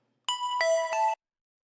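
A bright synth plug sound from a Massive layer preset with delay and reverb, a short bell-like pitched phrase of a few notes lasting under a second, clean and isolated against silence.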